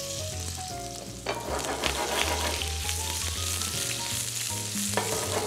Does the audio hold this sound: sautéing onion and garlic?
yes